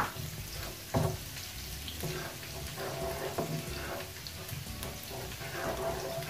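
Garlic frying in oil in a pan for crunchy vegetable noodles, a steady moderate sizzle with occasional louder stir clatters.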